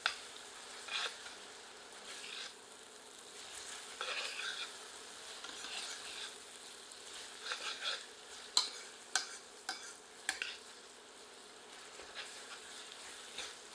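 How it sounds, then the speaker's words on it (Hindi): Onion and ginger-garlic paste frying in a pan over medium heat for a goat curry, a low steady sizzle with intermittent scraping stir strokes and a few sharper clinks, close and moderately quiet, no talking. "इसे प्याज के साथ मिलाकर 1 से 2 मिनट मध्यम आंच पर भूनते हैं।"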